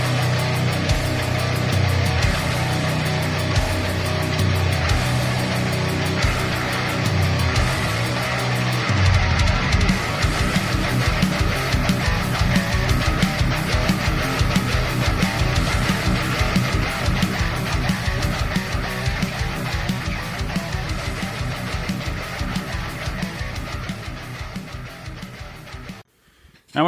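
Metal track plays loud and dense for almost half a minute, with distorted wall-of-sound texture and driving, rapid drum hits through most of it before it cuts off abruptly.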